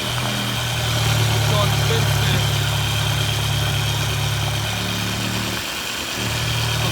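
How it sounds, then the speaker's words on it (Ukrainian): A 1997 Volkswagen Passat B5 with a 1.8 turbodiesel engine idles steadily and evenly, a loud close mechanical hum that holds for several seconds with a short dip near the end, while someone talks over it. "Моторчик працює рівнесенько."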